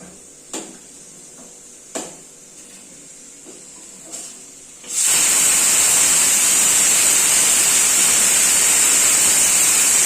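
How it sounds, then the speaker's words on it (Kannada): A pressure cooker cooking rice for a village-style sambar gives a few faint clicks, then bursts into a loud, sustained whistle and steam hiss that continues unbroken to the end. "ಕುಕ್ಕರ್ ಮೂರು ವಿಜಿಲ್ ಕುಕ್ತು"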